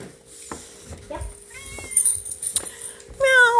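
A house cat meows a few short times amid quiet indoor household noise, with a brief louder meow near the end.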